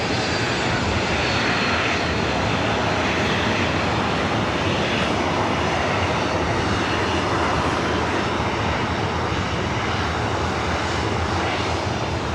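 A Delta Boeing 737-900ER jet takes off at LAX with a loud, steady, broadband engine roar that fills the whole stretch, close and constant with no talk.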